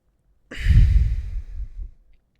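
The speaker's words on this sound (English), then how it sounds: "I keep yawning" A single long, breathy yawn, close to the microphone, swelling and then fading out over about a second and a half with no other sound around it.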